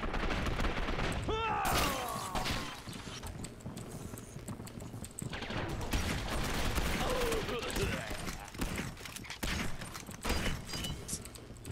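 Gunfire in the video game Gotham City Impostors: dense, continuous bursts of rapid shots and impacts that fill the whole stretch, loud and close, with game noise mixed in.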